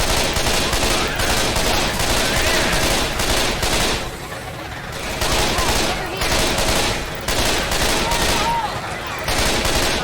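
Rapid automatic fire from the Lambo gun in a video game rattles on loudly and almost continuously, with short lulls between long bursts and no one speaking.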